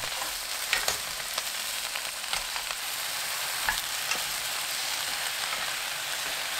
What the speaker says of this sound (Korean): 배추 넣고 센 불로 켠 뒤 3분 볶아주세요.